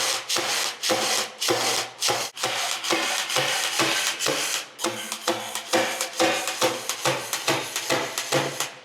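A cordless nailer that takes DeWalt batteries fires pins into wood in continuous mode, giving a rapid run of sharp, clattering shots in quick succession, close and fairly loud.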